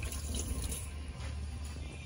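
Coolant from a 2006 Mercedes-Benz SLK350 pouring out of a pulled hose into a bucket, a steady close splashing flow of liquid that runs without a break and has no voices.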